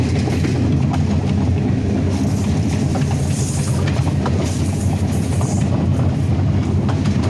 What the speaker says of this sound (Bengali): জয়ন্তিকা এক্সপ্রেস এটি সিলেট যাবে, এর শেষ গন্তব্য সিলেট।